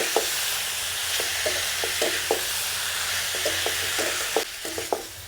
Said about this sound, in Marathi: तेलामध्ये चांगले परतून घ्यायचे इथं